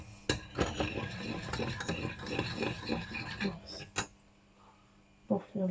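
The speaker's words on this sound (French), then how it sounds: "on va mélanger pour la sauce cocktail là déjà" A utensil stirs cocktail sauce in a bowl, giving a run of quick rhythmic clinks and scrapes for several seconds, then a couple of sharper isolated knocks after a short quiet gap.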